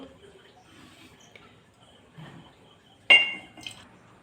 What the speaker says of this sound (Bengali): এর মধ্যে আমি ঘিটা ট্রান্সফার করে নেব